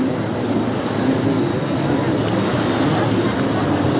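Jet skis race on Lake Tapps at a 1992 Budweiser Series event, a dense, steady engine roar carrying across the water, loud and unbroken, with a voice talking over it.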